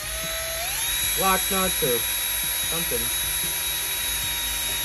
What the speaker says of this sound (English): I'm gonna drill some holes now.